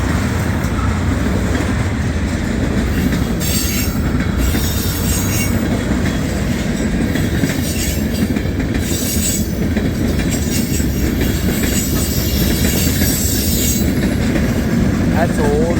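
A CSX freight train of tank cars rolls steadily past at Point of Rocks, a loud, close, continuous rumble with recurring high wheel squeals throughout.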